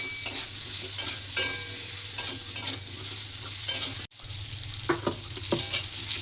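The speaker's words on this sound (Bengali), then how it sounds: "হাফ চামচ নুন, হলুদ গুঁড়ো দিয়ে ভেজে নিচ্ছি।" Potatoes fry in a kadai with salt and turmeric, giving a continuous close sizzle with intermittent scraping and stirring knocks and one brief sharp cut-off partway through.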